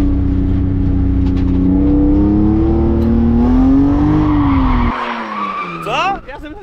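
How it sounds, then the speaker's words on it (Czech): A car drifts with tyres skidding and squealing in a long continuous screech over a rising, steady engine drone, loud and close, fading and shifting near the end as the car slides away, with voices briefly heard. "ty tam přejdi za náma a zkus driftovat na levou nebo na pravou stranu"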